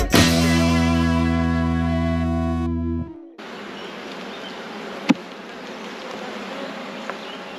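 Honeybees from a colony with a drone-laying queen buzz at an open hive box. A loud, steady, close hum holds for about three seconds, then gives way to a quieter hiss with a couple of sharp clicks.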